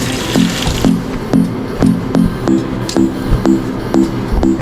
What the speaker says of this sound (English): Let me rinse my hands because the flour is all over me.